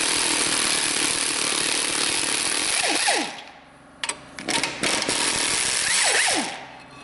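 An 18 mm socket on a tool cracks loose the brake caliper bracket bolts on a Suzuki XL7, giving a loud, sustained mechanical rattle that drops out briefly into sharp clicks and knocks before roaring back.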